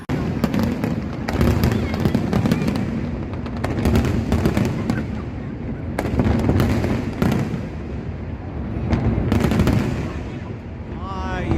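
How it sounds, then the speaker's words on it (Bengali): Fireworks burst repeatedly in rapid crackling volleys over Singapore's Marina Bay area at night, loud and continuous, with a crowd murmuring underneath. "সিঙ্গাপুর আতশবাজি হচ্ছে।"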